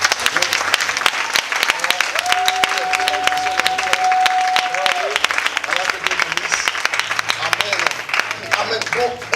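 A church congregation applauding during a worship service, sustained loud clapping from many people, with a voice and music carrying through the crowd noise.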